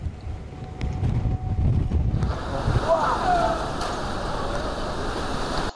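Roaring wind and crashing surf from Hurricane Michael at Panama City, Florida, a loud steady storm rush with heavy wind buffeting on the microphone throughout.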